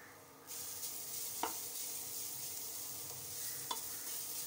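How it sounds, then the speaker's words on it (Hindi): A coconut mixture is sautéed in a pan for a Kerala-style beans thoran, giving a soft, steady sizzle with a couple of sharp spoon taps against the pan, starting after a short quieter moment. "अब इसको कुछ सेकेंड्स के लिए आप हल्का सा सॉटे कर लीजिए"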